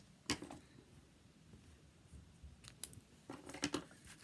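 Scissors trimming the tails of a ribbon bow on a rosette gift tag: a few faint, quiet snips spaced apart, with a pair of closer cuts near the end in a hushed room.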